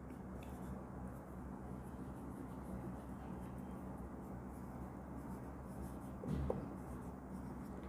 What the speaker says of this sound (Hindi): यहाँ पे लिख के देखते हैं।